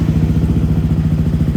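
A stock Yamaha WR155 motorcycle engine, fully warmed up, holds high revs against its rev limiter, giving a loud, close, steady buzzing drone with rapid regular pulsing and no speech.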